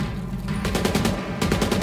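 Automatic gunfire in the video game Tom Clancy's The Division 2, a steady burst of rapid shots that swells in density toward the end, loud and close with no talk over it.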